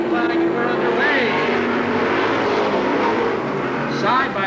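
Pro Stock race cars roar loudly and steadily at the start of a race at Seekonk Speedway, engines sustained with rising passing sweeps, under talk.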